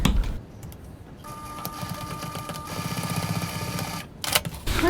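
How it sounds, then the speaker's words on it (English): Sewing machine back tacking a seam on a sling bag, a quick rattling run of stitches that starts after a brief pause, whirs steadily for about three seconds, then stops with a few clicks. "I'm back tacking at the beginning and to the end of the seam"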